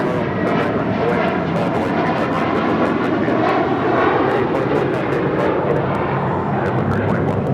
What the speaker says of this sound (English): First mint livery is taking off to JFK.